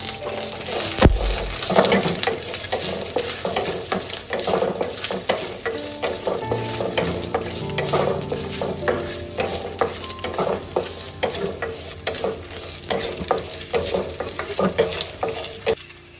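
Coconut pieces fry in a pan for a breadfruit beef curry: a steady sizzle under repeated scraping stirs and occasional light clinks of the utensil against the pan.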